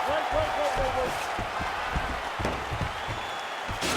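A virtual arena crowd in the UFC 4 fighting video game cheers and applauds at the end of round two, a continuous broad roar that holds steady throughout.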